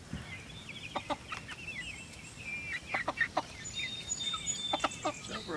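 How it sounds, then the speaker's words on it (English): Chickens and a rooster cluck and call while pecking at cabbage, a scatter of short clucks of varying pitch at moderate distance, fairly quiet and mostly alone without talk. "More chickens."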